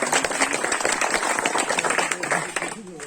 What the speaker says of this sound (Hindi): जोरदार ताली बजाकर उनका